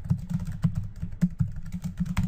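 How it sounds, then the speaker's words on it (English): Fingers type on a computer keyboard, a close run of quick, uneven key clicks and taps with no talking. "and then type out my address"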